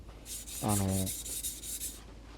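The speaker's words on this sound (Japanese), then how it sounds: "研ぐ分にはやっぱり中とで研ぐと早くなる" A knife blade drawn across a medium-grit whetstone gives a soft, close rasping scrape in a short steady stroke, with a brief higher tonal ring partway through.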